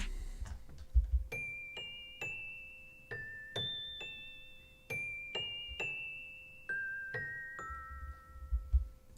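A celesta bell from the Mallet Flux instrument plays a gentle melody of bright single notes in FL Studio, each ringing and decaying in a steady rhythm, quiet and alone.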